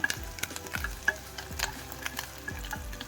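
About a spoonful of white sesame seeds splutters in hot oil with grated ginger over a low flame for a tempering, making faint irregular crackles and sharp pops over a soft sizzle.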